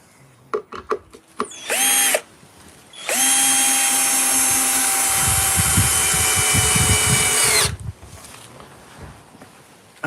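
A power drill bores pilot holes into roughly inch-thick wood for a birdhouse: a couple of clicks and a short whirring burst, then a long, loud high-pitched whine with grinding through the wood, ending abruptly.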